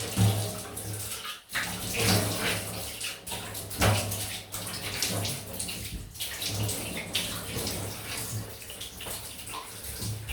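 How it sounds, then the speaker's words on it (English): Tap water runs steadily while a single-edge razor is rinsed in a sink, a continuous close splashing stream with brief dips as the razor passes through the flow. "Forgive me for the noisy water."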